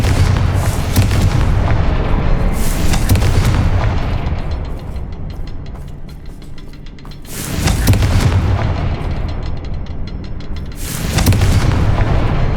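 Confringo fire-blast spells exploding in Hogwarts Legacy, three loud, deep booms with rumbling tails, each decaying before the next blast, no talk.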